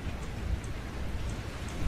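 Steady rain in the video game Outlast 2 hisses with a low rumble underneath, continuous and even, with no voices.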